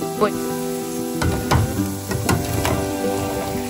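Mushrooms sizzle in a pan with potatoes, onions and Italian herbs over a high flame, a steady crackling fry with occasional stirring knocks, fairly quiet.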